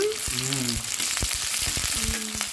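Vegetables and cabbage for veg noodles frying over high flame, a loud continuous sizzle with spatula scrapes and clatter, and brief voices in the background.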